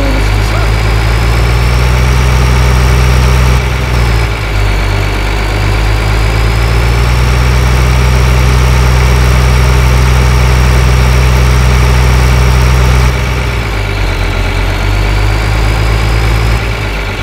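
Tractor engine idling in the video game Farming Simulator 13, a loud, steady, low-pitched drone with a constant hum that dips slightly twice, heard alone without talking.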